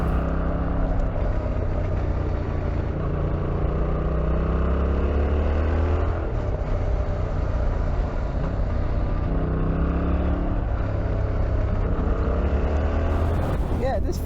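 A Yamaha XSR700 motorcycle engine hums steadily while riding along back lanes, with rising and falling revs through gear changes, all under constant wind rush.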